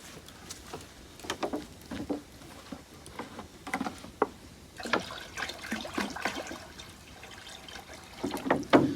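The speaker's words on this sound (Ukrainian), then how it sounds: "Беремо нашу тару кастрюлю, налімо води" Water poured from a container into a cooking pot set over an outdoor campfire, heard as irregular splashing and trickling pulses, fairly close and moderately quiet, with no talking.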